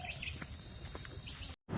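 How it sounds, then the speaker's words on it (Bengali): Dense, loud chorus of crickets in a man-made mangrove forest near the India–Bangladesh border in Satkhira, a steady high shrill hum lasting throughout before cutting off abruptly near the end. "সুন্দর লাগে এই ঝেঁঝি পোকার ডাকগুলো শুনতে"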